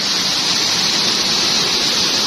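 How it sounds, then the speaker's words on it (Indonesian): Small waterfalls near a bamboo bridge, a constant broad rushing roar of falling water, loud and close, with no pause and no voices. "air terjun yang kecil-kecil"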